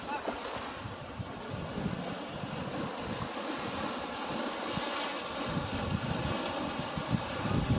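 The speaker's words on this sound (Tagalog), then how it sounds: "Ang lakas ng alon." Strong ocean waves crash continuously at Winnipeg Beach while wind buffets the microphone, making a loud, steady roar with no clear pauses between surges.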